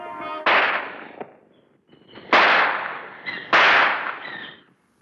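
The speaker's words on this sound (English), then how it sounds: "a man stepped forward and fired 3 shots at the Mahatma" Three loud gunshots ring out one after another at spaced intervals, each a sharp crack followed by a long echoing decay in an open outdoor space.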